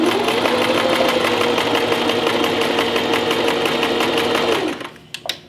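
A Singer 2277 Tradition sewing machine runs a zigzag stitch in one steady, close, whirring stretch of rapid needle clatter for several seconds, then stops, leaving a couple of faint clicks.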